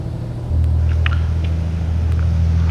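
Freightliner FLD truck engine in Euro Truck Simulator 2, a steady low diesel rumble that swells louder after a moment and then holds a constant droning idle, heard alone.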